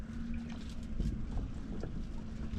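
Strong wind blows steadily in an outdoor spot near a kayak, a continuous rushing roar buffeting the microphone with low rumbling gusts.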